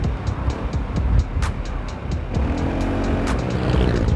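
A BMW C400 GT scooter hums steadily while being ridden, a smooth continuous engine drone at moderate volume with faint wind and road noise, no voices present.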